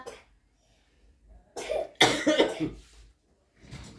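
Several harsh coughs in bursts, a short one followed by a longer, heavier fit, then a fainter cough at the end, fairly close.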